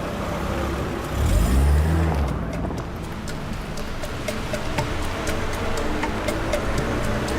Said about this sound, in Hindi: अरे नहीं, ये तो सच में अमीर है। इतनी महंगी गाड़ी।